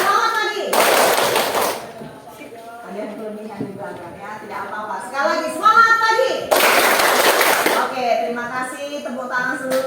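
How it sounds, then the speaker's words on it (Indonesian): A class 11 school classroom of students claps hands in two loud, brief bursts of rapid clapping, with voices and a teacher talking between them. "tepuk tangan seluruhnya untuk kelas 11"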